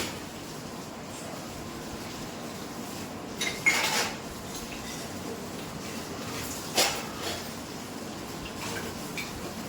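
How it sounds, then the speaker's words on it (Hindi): Dishes, steel pots and utensils are washed by hand in a home kitchen, with faint clinks and a couple of sharper clatters over a steady background hiss, no talking. "तो देखिए इधर मेरे बर्तन भी धो रहे।"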